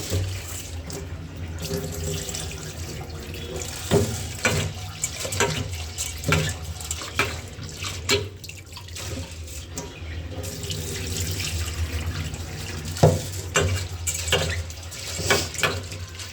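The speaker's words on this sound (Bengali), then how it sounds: "এখন ডালটাও ধুয়ে নিই" Lentils are washed in a pot under a running kitchen tap, water splashing and rushing continuously with occasional knocks of the vessel against the sink, close and moderately loud, no talk.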